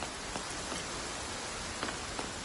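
Steady rainfall in the video game Infinity Nikki, a dense, even hiss of drops on surfaces with a few slightly louder splashes, continuous and close with no voices.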